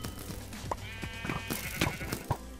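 Sheep bleating in the video game Sheep Quest, several quick overlapping bleats over a dense, busy game soundtrack with clicks and thumps, loud and continuous throughout.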